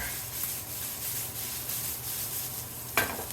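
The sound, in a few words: meat browning and sizzling in a pan for biscuits and gravy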